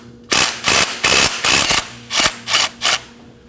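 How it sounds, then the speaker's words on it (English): Ratchet with a 12mm socket and long extension loosening a bolt while an oil pressure switch is replaced on a 2011-2016 Kia Optima, heard as seven loud, close bursts of rapid clicking separated by short pauses. "Using a 12mm socket and a long stanchion,"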